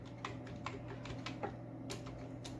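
Fingers typing code on a computer keyboard, a quick irregular run of light key clicks, close and fairly quiet, with no speech.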